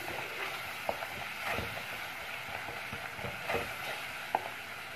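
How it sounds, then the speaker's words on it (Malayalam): A spatula stirs fish curry masala in a pan, giving a soft continuous sizzle with light scraping strokes and a few sharp clicks against the metal. "ഇളക്കി യോജിപ്പിക്കാം"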